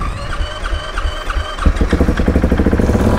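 A KTM motorcycle engine fires up and runs, a rough, rapid idle pulsing loudly and close after a few uneven cranking bursts.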